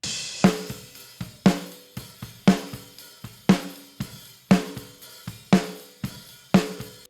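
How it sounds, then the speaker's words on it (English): Sharp snare hits land in a steady pattern, about two per second, each with a short ringing decay and softer ghost strokes between, with slight hi-hat and kick bleed. "Here's the snare drum by itself."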